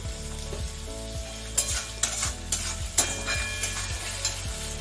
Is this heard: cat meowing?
no